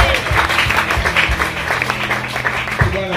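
A church congregation applauding after a healing testimony, dense clapping from many hands mixed with voices and crowd noise in a reverberant hall.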